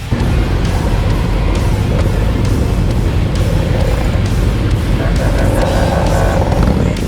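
Motorcycle convoy setting off on a commemorative ride in Bila Tserkva, Ukraine, a steady loud wash of engines rumbling close by, continuous with no clear pauses.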